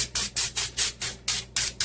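A series of eight quick, evenly spaced hissing bursts of cooking oil spray, each a short sharp puff, close and fairly loud.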